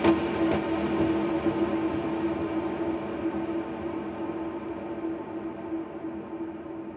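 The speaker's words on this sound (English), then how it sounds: "For swells, we're going to push our mix and our decay on the delay and the reverb." Electric guitar swells drenched in heavy delay and reverb, a sustained ambient wash of soft, overlapping tones that blooms and slowly decays over several seconds, played alone without talking.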